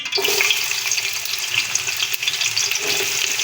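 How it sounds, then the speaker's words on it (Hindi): Onions drop into hot ghee and fry with a loud, continuous hissing sizzle that holds steady from start to finish, close and busy. "गर्म हो चुका, इसके अंदर प्याज जाएंगे।"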